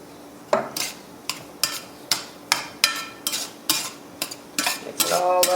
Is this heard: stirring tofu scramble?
yes